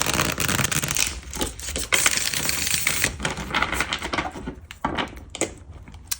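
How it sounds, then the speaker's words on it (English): Tarot cards being shuffled by hand, a dense, continuous run of close, crisp riffling and slapping card clicks with a few brief pauses. "All right, one more shuffle."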